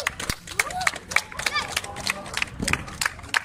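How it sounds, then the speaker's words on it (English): Children at a school clapping for themselves, a burst of scattered, uneven claps mixed with voices and chatter close by. "Here, you can clap for yourself."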